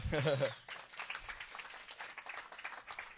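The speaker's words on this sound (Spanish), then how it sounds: "Un aplauso a Café con Dios Chiclana." Applause at a church gathering: a brief spoken voice at the start, then scattered clapping from a modest crowd, fairly faint and irregular, continuing to the end.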